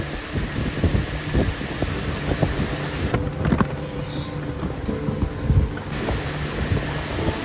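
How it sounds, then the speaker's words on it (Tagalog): Strong gusts buffet a roof tent at a Coto Mines campsite, roaring loud and steady with low rumbling blasts and a brief lull in the middle, no voices. "Lakas sobrang hangin."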